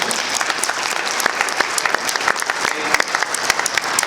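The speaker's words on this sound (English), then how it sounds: "Can we give them a round of applause?" Applause fills a hotel conference room at an economic summit, loud and close, with individual sharp claps standing out against the dense crowd clapping throughout and no talking.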